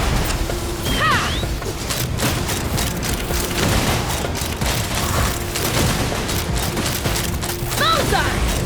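Sumeru Archon Quest battle fire rattles on steadily in a busy video game fight, loud layered shots and mechanical bursts under constant combat effects, with brief voice calls in the mix.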